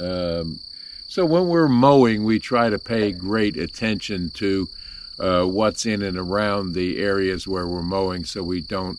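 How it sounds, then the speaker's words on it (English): Small frogs calling steadily outdoors near berry bushes and tall grass, a constant high trill running through the whole clip beneath someone talking close by. "you can hear the little frogs behind me"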